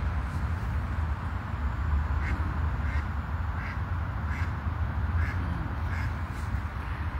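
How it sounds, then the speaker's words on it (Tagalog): Mallard ducks being fed in Poland quack in a run of short, evenly spaced calls over a steady outdoor background hum, fairly close and moderately loud. "Daming pato."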